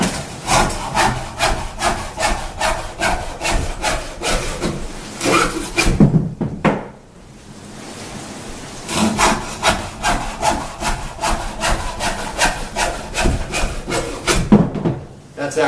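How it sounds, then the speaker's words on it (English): A handsaw rasps through wood in quick, regular back-and-forth strokes while preparing a fireplace, pausing briefly midway before the rhythmic sawing resumes. "once in a while it's just fun to use your hands and use a handsaw"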